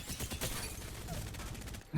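Devotion LMG firing in Apex Legends: a sustained stream of rapid automatic shots, dense and unbroken, loud and close throughout with a brief louder crack at the very end.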